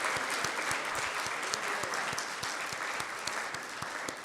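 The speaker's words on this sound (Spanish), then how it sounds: "Vamos a darle un aplauso al Señor por su supremacía." Congregation in a church service applauding, a sustained, even round of many hands clapping with a few louder individual claps standing out in a loose rhythm, no voices over it.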